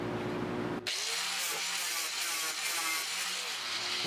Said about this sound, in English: I'm just gonna grind this first weld because for some reason I made a mess there.